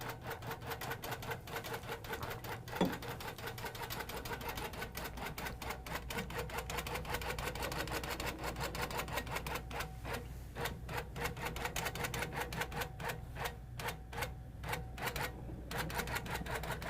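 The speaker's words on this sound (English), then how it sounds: "So I just stitch along, just hugging that back bar." A longarm quilting machine on an HQ frame stitches steadily along the back bar, a fast, even mechanical clatter that runs continuously at moderate, fairly quiet level with no talking.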